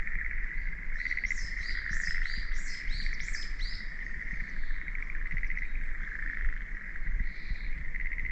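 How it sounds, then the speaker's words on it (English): Frogs croak in a rural field in Shinshu, a steady high trilling chorus with bursts of chirping calls rising above it, continuous and fairly close with no talk. "I think those are frogs."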